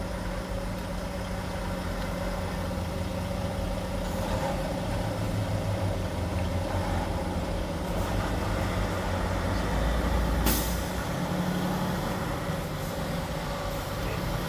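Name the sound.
truck pulling into a parking spot, air brakes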